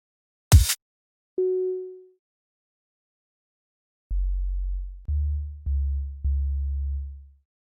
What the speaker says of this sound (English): I'm just getting a sine wave.